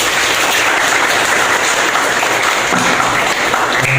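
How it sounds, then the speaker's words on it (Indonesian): A hall audience at a drug-awareness and youth-delinquency outreach talk applauding loudly in a thick, continuous burst of clapping that holds steady throughout, with no speech over it. "tepuk tangan luar biasa"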